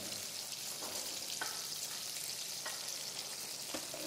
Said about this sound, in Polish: a pod koniec smażenia dodamy jeszcze masełka do smaku